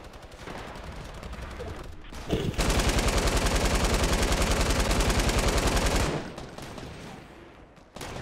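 An LMG machine gun in Fortnite Battle Royale's 50v50 mode, a loud rapid burst of evenly spaced shots lasting several seconds, with scattered gunfire before and after.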